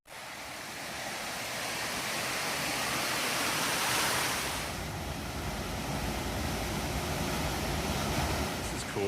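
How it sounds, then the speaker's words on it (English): Cascades on a mountain stream pour in a continuous, loud broadband rush, steady throughout with no voices over it. "I was walking along the trail and heard these cascades."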